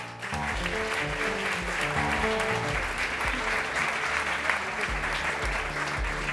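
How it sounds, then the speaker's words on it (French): Sustained, dense applause from an audience at a French regional economy awards ceremony, even and fairly loud for the whole stretch with no voice on top. "Sous vos applaudissements."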